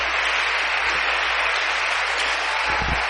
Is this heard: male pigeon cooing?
no